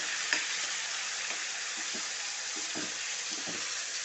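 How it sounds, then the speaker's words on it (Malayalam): Steady, loud sizzling of finely chopped tomatoes frying in a pan for pickle, close up, with occasional soft scraping and stirring sounds underneath. "തക്കാളി നന്നായിട്ടൊന്ന് വേവിക്കണം വറുത്ത് വേവിക്കണം"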